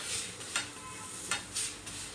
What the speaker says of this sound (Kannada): ಎರಡು ಕಡೆ ನೀಟಾಗಿ ಫ್ರೈ ಆಗಬೇಕಿದು